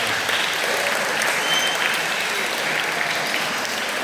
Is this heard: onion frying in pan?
no